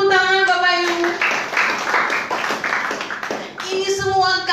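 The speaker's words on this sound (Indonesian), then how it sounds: "Tepuk tangan Bapak Ibu." A church congregation at a Sunday service bursts into applause, scattered clapping building into a fuller round for a few seconds between stretches of a voice speaking over a sound system.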